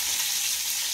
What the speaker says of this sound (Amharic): ያገላበጣችሁ እንደዚህ ወደ ጎን እያደረጋችሁ መጥበስ አለባችሁ።